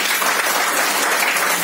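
Dense, loud applause from an audience at an office Women's Day celebration, continuous clapping without pause.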